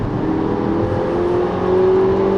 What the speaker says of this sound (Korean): 가속 페달을 깊게 밟아서 달리고 있는데요